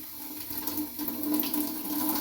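Tap water runs steadily into a sink as a child washes hands and face, a close, moderately loud splashing stream with slight variations as hands move through it.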